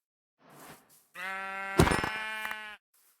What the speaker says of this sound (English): So I'm going to run around until I find 3 sheep of the same color.